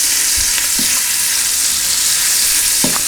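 Smoked pancetta frying gently in oil, a steady close sizzle and crackle with a few soft stirring knocks, loud and unbroken throughout.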